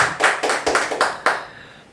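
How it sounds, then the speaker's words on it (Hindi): A few hands clap rhythmically on a comedy talk show, close and crisp, about seven distinct claps in quick succession before fading. "जोरदार तालियां"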